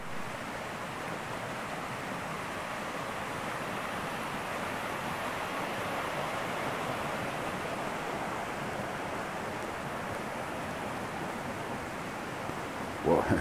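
A small stream flows through woods along a narrow trail, a steady broadband rush of water heard close and continuous without a break.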